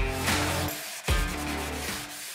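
Hand sanding with 220-grit sandpaper while repairing defective joint tape on a painted wall: steady, close rasping strokes that run almost continuously, with one brief pause near the middle before the scraping resumes.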